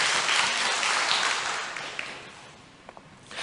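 Church congregation applauding during a Korean worship service, a broad wash of clapping that swells early then gradually thins and fades, with a few distinct claps near the end.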